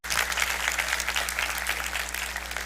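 A church congregation at a Spanish-language service claps together, a short burst of dense, steady applause over a low constant hum from the room.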